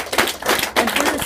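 A small audience at an evening business opportunity event gives a brief round of applause, a short burst of sharp, close hand claps with a somewhat uneven rhythm.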